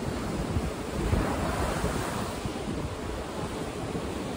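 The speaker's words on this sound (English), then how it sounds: "So yeah, check out the waves today." Ocean surf at Hua Hin rolls and crashes onto the beach in a steady, loud broadband wash, with wind buffeting the microphone throughout and no voices.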